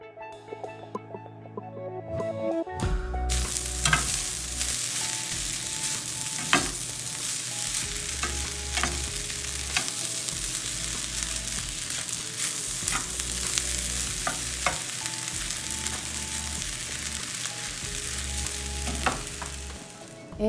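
Ginger beef fried rice with green onions and cilantro being stirred in a cast iron skillet, a close, continuous sizzle broken by repeated scraping and clanking of the spatula against the pan.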